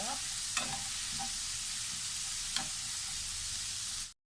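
Ginger and garlic frying in a pan for prawns chilli fry, a soft continuous sizzle with a couple of brief stirring clinks, ending abruptly.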